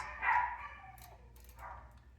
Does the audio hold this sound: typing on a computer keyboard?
no